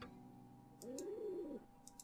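A single soft, low pigeon coo from the video game Rusty Lake Hotel rises and falls for under a second over a quiet background with faint clicks.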